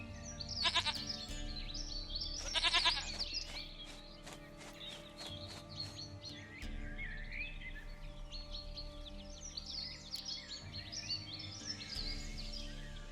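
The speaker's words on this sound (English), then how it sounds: "Goat of mine! Dearest, sweetest goat!" A goat in The Witcher 3 gives two short, wavering bleats early on, close and clear, over a soft outdoor bed of chirping birds and low ambience.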